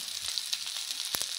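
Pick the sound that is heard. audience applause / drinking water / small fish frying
small fish frying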